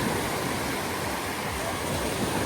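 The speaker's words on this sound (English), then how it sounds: "And the waves are plentiful." Ocean waves off Bermuda wash and churn in a steady, dense rush, a continuous broad surf noise with no clear gaps between breakers.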